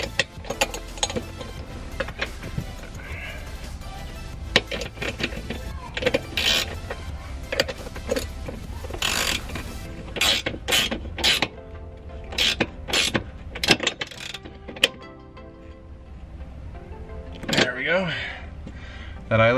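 A racing harness eyelet bolt is tightened during a racing seat and harness install, with irregular ratcheting clicks and metallic turning sounds close by, interleaved with someone talking.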